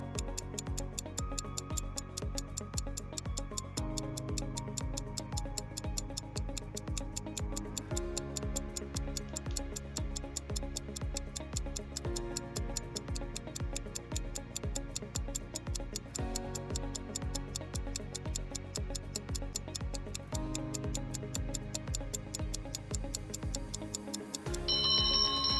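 A countdown timer ticks steadily over a lesson activity, each tick regular and crisp, with a soft musical bed underneath and a brief louder burst near the end; no one speaks.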